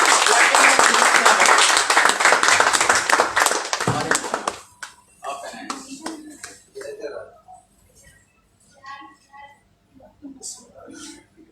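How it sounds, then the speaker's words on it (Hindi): An audience at a membership card distribution ceremony claps in a dense, loud burst of applause that fades after about four seconds, leaving scattered claps and chatter. "तालियां।"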